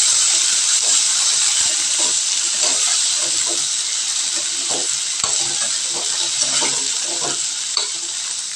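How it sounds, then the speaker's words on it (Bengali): Pointed gourd and cut potatoes are stirred in hot oil in a pan, giving a steady, loud sizzle with scraping and clattering stir strokes throughout. "সবগুলো দিয়ে ভালো করে এইভাবে তেলের ওপর নাড়াচাড়া করে দিই।"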